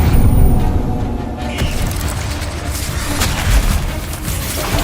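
Heavy booming blasts from the Confringo fire spell in the game Hogwarts Legacy, a loud low rumble with several dull explosive thumps rolling on in sequence.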